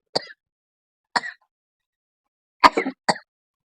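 Smoke from an iron tawa frying fish on a cooking stove sets off four short, sharp coughs, close and clear, with pauses between them and near silence around them.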